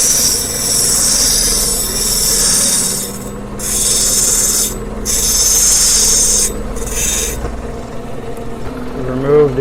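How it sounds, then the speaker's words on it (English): Grinding an Australian sapphire during preforming to remove its dark cap: several loud rasping bursts, each lasting a second or two, separated by brief pauses, over a constant machine hum. "So now we'll grind on the other side."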